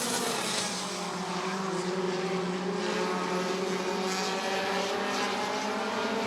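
Bandit race cars run at Rockford Speedway, their engines blending into a continuous, moderately distant droning roar with steady harmonic tones and no distinct pass-bys.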